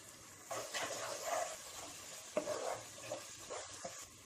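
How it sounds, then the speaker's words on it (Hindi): Ginger garlic paste softly sizzles in a pan with a few quiet stirring scrapes and taps, faint and close, no voices. "इसमें हम 3 टीस्पून अदरक लहसुन का पेस्ट डाल देते हैं। इसकी कच्ची बू जाने तक इसे भी अच्छे से भून लें।"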